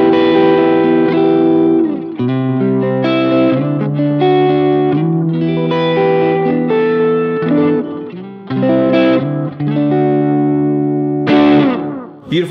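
Distorted electric guitar played through a Line 6 Helix with an EQ boost switched off, close and loud with sustained chords and single notes ringing out in a loose phrase.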